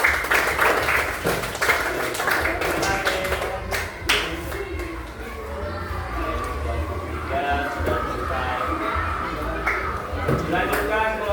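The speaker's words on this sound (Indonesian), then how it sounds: "tepuk tangan untuk kelompok" Classroom applause for a student group at an elementary school, a busy spread of clapping and hand taps mixed with children's chatter and voices throughout, fairly steady and close.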